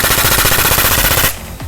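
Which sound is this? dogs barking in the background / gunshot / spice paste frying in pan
gunshot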